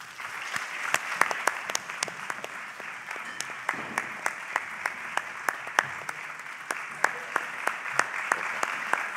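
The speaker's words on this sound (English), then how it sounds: "would you please give them a big round of applause for me?" Audience at a hospitality school graduation ceremony gives sustained applause, an even roar of many hands with sharp individual claps standing out throughout, no voices.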